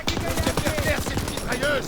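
Rapid machine gun fire in a war video game, dense continuous bursts with game voices faintly underneath.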